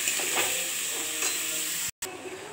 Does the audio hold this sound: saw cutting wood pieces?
no